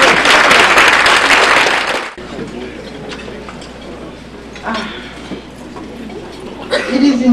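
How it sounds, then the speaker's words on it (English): Loud, dense applause from an audience at the North Miami State of the City address fills the first two seconds, then drops to scattered clapping and room noise with voices in the background. "Let's give the mayor a round of applause"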